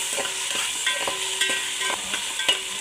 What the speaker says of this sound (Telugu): ఇందులో కొద్దిగా అల్లం వెల్లుల్లి పేస్ట్, ఇది పచ్చివాసన పోయే వరకు వేయించుకోవాలి